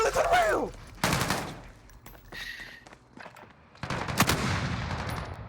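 Call of Duty gunfire in the Gulag comes as short loud automatic bursts broken by quieter gaps, with a voice speaking over the opening.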